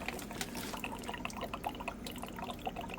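Water drains from a thermal expansion tank in a basement, heard as faint, quiet trickling and irregular drips with small splashes, steady and close for a few seconds.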